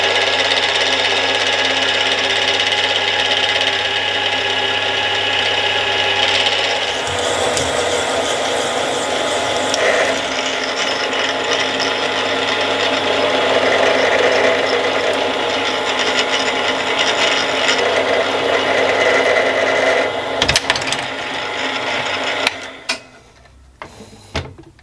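A center drill on a Warco round column mill grinds steadily into metal with cutting oil for a long stretch, a dense mechanical whir and scrape that stops abruptly near the end, followed by some clatter.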